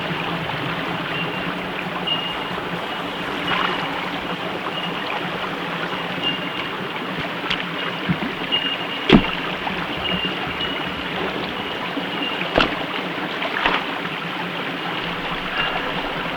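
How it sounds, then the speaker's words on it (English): Water runs through a small stream channel among rocks, making a steady broadband rush and trickle close by, with a few sharp knocks and splashes breaking through the constant flow. "you can see the majority of water is flowing into this small channel here"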